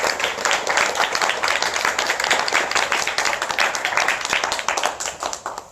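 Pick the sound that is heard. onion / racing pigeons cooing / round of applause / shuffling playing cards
round of applause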